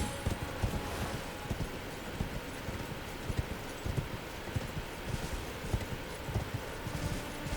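A horse gallops in the video game Elden Ring, steady rhythmic clip-clop hoofbeats close by over a constant ambient wash.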